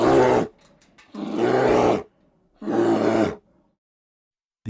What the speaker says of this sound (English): These include grunts, huffs, growls, and moans.